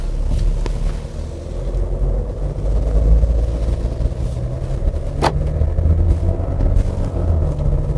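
A Kia Mohave The Master V6 diesel SUV drives along, heard from inside as a steady low engine and road rumble with some wind noise and a faint click, continuous and fairly loud.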